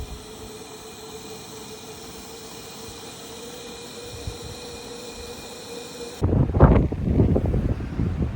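Wind blowing hard against the microphone on a mountain trail. A steady hiss and rumble of moving air gives way to louder, gusty buffeting near the end.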